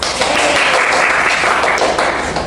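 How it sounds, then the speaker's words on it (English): Students in an English class clapping together, a brief, loud, steady burst of many hands lasting a couple of seconds with no talking over it. "Give applause."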